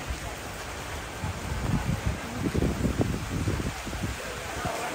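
Rain falling during the rainy season, a steady wash of drops that swells slightly toward the middle, with faint voices talking in the background.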